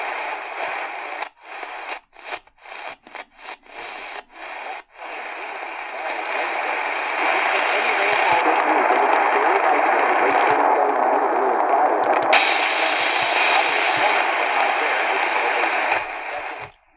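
A Tecsun PL-398BT portable radio pulls in daytime mediumwave station 600 WMT from Cedar Rapids, Iowa, 175 miles away: a steady wash of hissy static, choppy with dropouts early on, a faint voice buried underneath and a few clicks.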